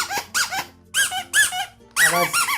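Several sharp, high squeaks in quick bursts, some paired, close up and fairly loud, from a rubber toy ball being squeezed.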